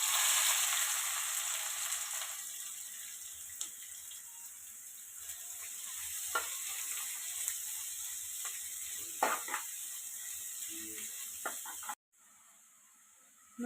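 Chopped onions frying in oil in a pan, a steady close sizzle with occasional stirring clinks before it cuts off abruptly near the end.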